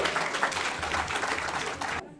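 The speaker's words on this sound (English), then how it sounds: "give a round of applause" Steady applause from a convention panel crowd, dense clapping throughout that cuts off abruptly near the end.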